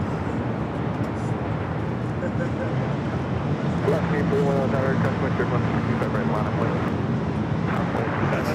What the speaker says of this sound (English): That's Southwest Airlines, Flight 170 coming in from Las Vegas on a 737 MAX 8.